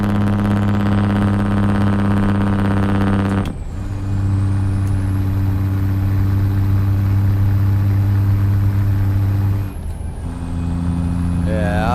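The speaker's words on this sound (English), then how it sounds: "This is the old Big Cam 855 from Z mods" Cummins Big Cam 855 diesel running in a Kenworth truck in a trucking game mod, a loud steady low engine drone broken by two brief air-brake hisses, with the engine note shifting slightly after each.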